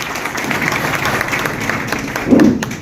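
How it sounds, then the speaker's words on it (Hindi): Brief burst of audience clapping at a political party workers' meeting, a steady patter of many hands with a slight swell near the end and faint voices beneath. "हाथ उठाइए और ताली बजाइए"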